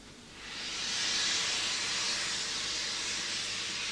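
A steam locomotive vents a loud, sustained hiss of steam, swelling within the first second and holding steady close by, with no talk over it.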